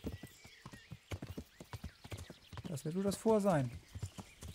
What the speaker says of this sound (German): Dann reiten wir nochmal dahin.